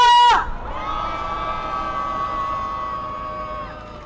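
A protest rally crowd at a citizens' gathering in Daejeon cheers and claps after a short opening burst, leaving a sustained sung or chanted tone that holds over a broad, continuous crowd din.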